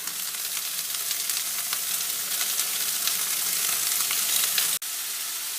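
Okra cooks in a pan over medium-low flame with a continuous close sizzle of hot oil, broken once near the end by a brief sharp dropout, and no speech.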